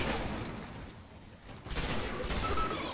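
Sustained rapid gunfire rattles in the video game Destiny as a Vex object is shot at, with dense bursts that dip briefly and then surge back louder.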